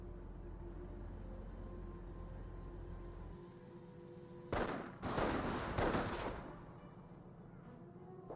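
Battle gunfire sounds in Company of Heroes: a low engine-like drone gives way to several short loud bursts of rapid shots in close succession, then a quieter rumble.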